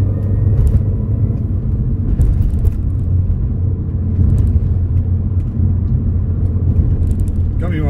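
2006 Mini Cooper S Convertible driving on the road, a steady low engine and road rumble filling the cabin with someone talking over it throughout.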